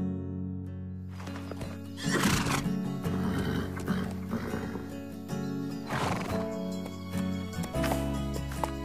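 Cartoon horse lets out a loud, drawn-out whinny, then a second neigh a few seconds later, with hoof clip-clops scattered between them, set on a ranch among other horses.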